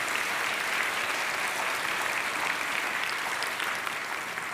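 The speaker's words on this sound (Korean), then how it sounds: "다시 한번 큰 박수로 격려해 주시기" A church congregation at an Onnuri Church dawn prayer service in Irvine gives loud, steady applause to encourage its young adults. The clapping is a dense, even wash with no break, with no talking over it.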